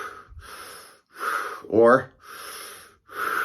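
A person demonstrates breathing in and out for a diaphragm explanation, giving an audible gasping inhale followed by a breathy exhale, close and clear between short spoken bits.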